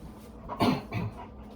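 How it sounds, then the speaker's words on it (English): A pet dog at play indoors gives two short bursts of panting and snuffling huffs up close against a quiet background, with no voices. "my dog's playing now"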